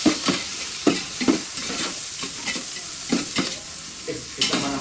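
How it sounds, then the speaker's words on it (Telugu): Onions with spices and chillies being stirred in a frying pan, with repeated scraping strokes over a steady close sizzle. "ఆనియన్స్ ఇవన్నీ బాగా మిక్స్ అనేది చేసుకోవాలి"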